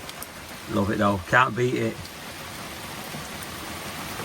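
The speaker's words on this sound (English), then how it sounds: "Oh yes, come on the rain." Steady rain patters on a small boat out on a river, a constant hiss beneath a man's brief remark.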